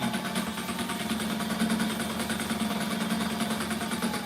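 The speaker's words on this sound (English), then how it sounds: "this is how you basically tack in PALS webbing if you don't have like a bar tacking machine" A sewing machine tacks PALS webbing at a fast, steady chatter, its motor whirring evenly close by with no talking.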